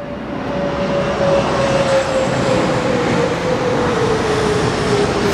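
A steady roar of an aircraft passing overhead fills the whole stretch, loud and continuous with a faint sustained tonal whine.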